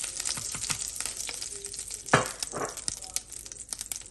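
Flaxseed panjeeri being stirred in ghee in a home kitchen pan, a close crackling sizzle with scraping strokes of a spoon and a louder clatter midway.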